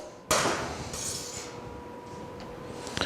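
A kitchen knife, just used to slice green onions, is re-honed on a sharpening steel: a sharp metallic strike followed by ringing, scraping strokes, close by and with no talking.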